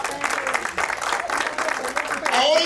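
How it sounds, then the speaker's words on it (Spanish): A church congregation claps during a sermon with a bright, continuous wash of applause that swells toward the end, with some voices mixed in. "Dale un aplauso al rey"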